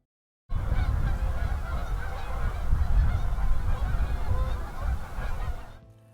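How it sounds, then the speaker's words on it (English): Geese honk from a distance out on open ground, a dense overlapping chorus of calls that sets in abruptly and fades near the end. "There's some geese out there,"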